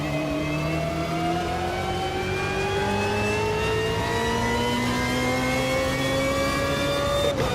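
A historical racing car in Automobilista 2 roars as its engine revs, the pitch sweeping steadily upward in a long, loud, continuous pull with no voices over it.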